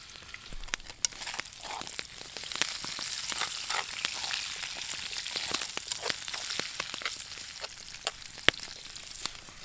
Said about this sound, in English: potatoes have been cooking away here for about 10 minutes, so they're starting to soften up a little bit